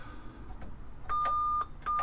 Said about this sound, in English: Control G sends a bell character.